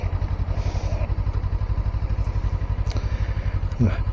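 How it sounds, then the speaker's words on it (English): Suzuki Inazuma GW250 motorcycle riding on UK roads, a steady low engine drone with wind rumble running throughout, close and continuous, with a brief louder surge near the end. "Out on my bike again."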